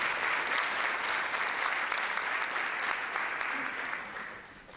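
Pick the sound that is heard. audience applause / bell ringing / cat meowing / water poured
audience applause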